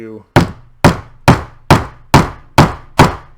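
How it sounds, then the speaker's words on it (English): Seven sharp hammer blows at an even pace, each about half a second apart, setting a metal grommet through fabric, loud and close with quick decays and no talk. "So you take your hammer here"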